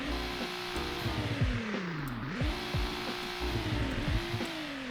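A game car in Greenville Wisconsin revving hard, its engine pitch climbing and dropping through repeated throttle blips with crackling exhaust pops between them, loud and close with no voices.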